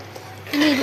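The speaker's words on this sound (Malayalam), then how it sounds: "ആ വെള്ളം ഇതിലോട്ട് ഒഴിച്ചു കൊടുക്കാം. തിളച്ച വെള്ളമാണ് നമ്മൾ ഒഴിച്ചു കൊടുക്കുന്നത്." Boiling water is poured into fish curry paste in a home kitchen, a short steady pouring hiss that starts abruptly halfway through and runs to the end, close and fairly loud.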